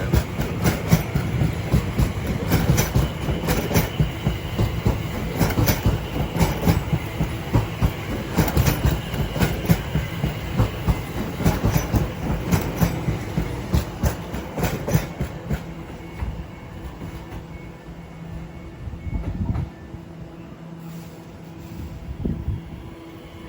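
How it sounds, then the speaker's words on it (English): Class 345 electric train pulling out of Shenfield station on the Great Eastern Main Line, wheels clattering in rapid rhythmic clicks over rail joints, loud and close at first, then thinning out as it moves away. "As 345 now departs with a service bound for Untitled."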